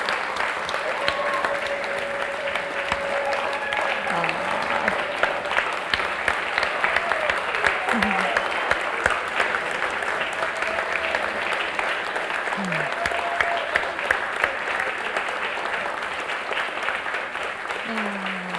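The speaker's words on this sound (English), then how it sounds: "let me just invite you all to give a round of applause for our practitioners" A congregation at a church service gives a long, sustained round of applause for the practitioners, with dense, even clapping filling the room and faint voices underneath.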